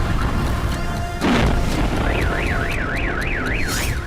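A car alarm wails with a rising and falling siren tone, loud and close, after a heavy crash or boom from explosions in Belgorod during a drone attack, over a steady rumbling background.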